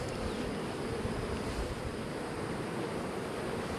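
A honeybee drone buzzes close by a hive, a steady, loud broadband hum under wind noise throughout with no talk.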